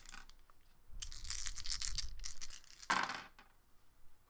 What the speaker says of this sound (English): I want you to hear these nice dice sounds.